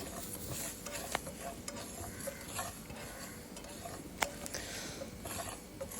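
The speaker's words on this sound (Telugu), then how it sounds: "దాని తర్వాత మనం ఒక ప్యాన్ తీసుకొని దాంట్లో ఆవాలు మరియు మెంతులు తీసుకుంటాము సో తీసుకొని కాస్త రోస్ట్ చేసి పెట్టుకోవాలి" Mustard seeds and fenugreek dry-roasting in a pan for cauliflower pickle, with a steady, faint scratchy stir and occasional sharp clicks and pops from the seeds, no voices.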